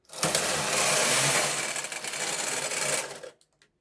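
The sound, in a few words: knitting machine knitting a row of punch card pattern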